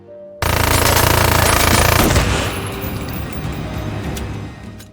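A loud, dense roar of rapid gunfire bursts in suddenly and continues steadily, easing slightly after a couple of seconds into a sustained rattling din.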